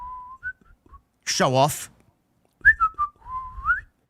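A professional whistler at a wrestling event, AEW All In Texas 2025, whistling a sustained melody in two phrases, clear and close, separated by a brief burst of someone talking.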